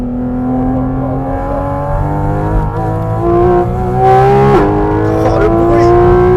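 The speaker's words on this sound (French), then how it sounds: "Le moteur il fait tellement de bruit, j'entends rien." A Porsche engine roars loudly as the car accelerates, its pitch climbing through several rising sweeps with a sharp shift mid-way, and a voice talks over the sustained mechanical howl.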